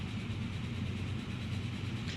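Simulated train in the Transport Fever video game, a continuous low rumbling engine and rolling rail drone, steady and moderately loud throughout.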